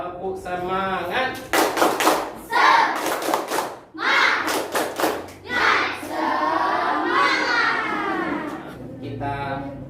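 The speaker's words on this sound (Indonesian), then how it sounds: "Tepuk semangat." A school class doing a rhythmic spirit clap in a classroom, with loud bursts of patterned clapping mixed with children's chanting voices.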